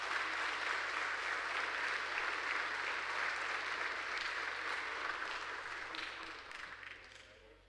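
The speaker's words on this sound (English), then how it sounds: "let's give these new Life Scouts a round of applause" Audience applause for new Life Scouts at a Scout troop court of honor: a dense, sustained wash of many hands clapping at once, steady and full for several seconds before gradually tapering off toward the end.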